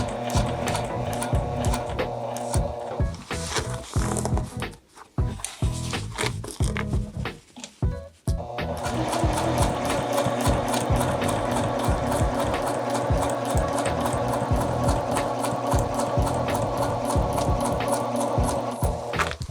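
A sewing machine stitches a jacket collar and facing in fast, even mechanical bursts, pausing briefly for pivots before running steadily again, close and loud with no talking.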